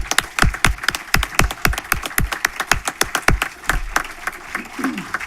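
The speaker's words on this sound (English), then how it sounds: "give them all a round of applause" Audience applause at a school board meeting: many hands clapping in a steady, dense rhythm for several seconds, fairly close and lively, then thinning out toward the end.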